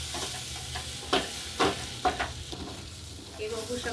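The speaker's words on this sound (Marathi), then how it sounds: "छान असं मंद गॅसवर त्याला चालवतच राहायचंय" Pineapple stirred into semolina roasting in a pan over low heat, a soft steady sizzle with several louder scraping strokes of the spoon, close and alone.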